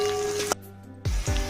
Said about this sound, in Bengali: আলুটা আর পেঁয়াজটা দেখো ভাজা হয়ে গেছে,